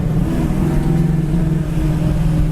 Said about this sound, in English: I was taking off in second gear there. A lot of torque.